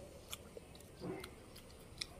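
Raw green almonds (kacha badam) being chewed, with faint soft crunches and small clicks scattered across a quiet background, no talking.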